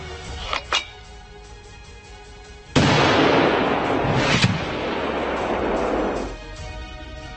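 Carl Gustaf M4 recoilless rocket launcher fires with one sudden, loud blast that rolls into a sustained roar lasting several seconds, with a second sharp crack inside the rumble and a few faint pops before the shot.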